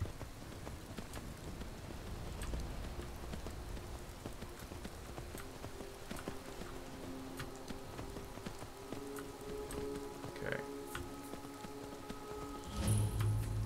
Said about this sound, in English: Though it is raining